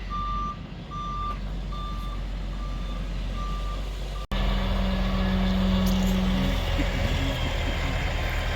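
A dump truck backs up with a load of dirt. Its reversing alarm pulses in a slow, regular rhythm over a rumbling diesel engine, then a cut leads to a louder, closer engine roar with a low hum.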